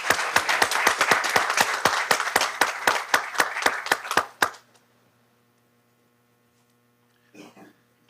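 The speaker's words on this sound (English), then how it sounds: "let's give our retirees one more collective round of applause" A small group claps for retirees at a school board meeting, about four seconds of distinct, fairly close hand claps that then stop, leaving quiet room hum and a brief murmur of voices near the end.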